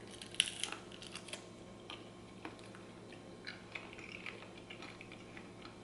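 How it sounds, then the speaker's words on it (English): Quiet, crisp crunching and biting of salami chips, a few sharp snaps spread over several seconds with no talking, close to the listener. "here we have the salami chips, and they are crunchy now."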